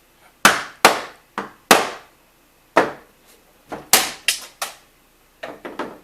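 An old nail is pried from an antique wooden trunk, heard as a series of sharp, loud, close knocks and cracks in irregular bursts with short pauses between them, and no speech.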